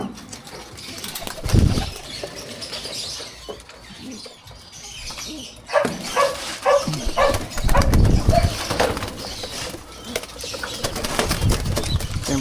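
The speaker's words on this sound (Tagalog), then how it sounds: "kunin tong mga kalapati natin" Racing pigeons burst from crates at a road training release, their wings flapping in loud fluttering flurries close by, coming in repeated waves with some faint cooing.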